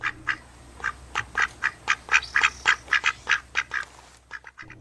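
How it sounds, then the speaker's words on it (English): A duck quacks in a steady run of about fifteen loud, close calls, evenly spaced over several seconds with no talking. "Quack, quack, quack, the mother duck is waddling in her pond"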